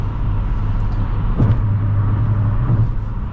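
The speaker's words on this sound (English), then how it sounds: "there's a more prevalent road noise rather than wind noise" Steady low road rumble fills the cabin of a 2008 Nissan Altima 2.5 S sedan at freeway speed, a constant droning hum with faint wind hiss above it.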